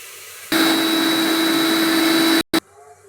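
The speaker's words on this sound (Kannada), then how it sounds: "ಇವಿಷ್ಟು ತರಿಯಾಗಿ ರುಬ್ಕೊಳ್ಳೋಣ" A kitchen mixer grinder coarsely grinds coriander with salt. The loud motor whir kicks in abruptly, runs for about two seconds, cuts out, then gives one brief extra pulse.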